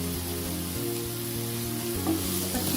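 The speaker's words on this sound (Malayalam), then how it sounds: "അപ്പൊ ഇനി ചിക്കൻ ഇട്ട് കൊടുക്കുന്നത്." Chicken pieces go into a pan of masala with salt and garam masala for a Malabar snack, setting off a loud, steady sizzle with stirring scrapes, close and continuous.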